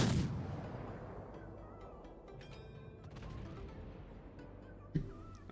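Naval guns on the Tier VII Russian cruiser Shchors in World of Warships, opening with a loud deep boom that rolls away into a long low rumble, then a sharp distant impact thump near the end.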